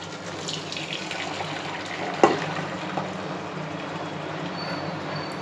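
Boiled veg noodles are drained through a strainer, with water pouring away in a steady, close rush and one sharp metallic clank partway through.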